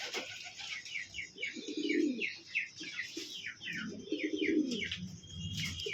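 Pet pigeons kept in pairs coo in low, rolling bursts, repeated twice, with softer chirps and twitters scattered over them; close and moderately quiet, with no talking.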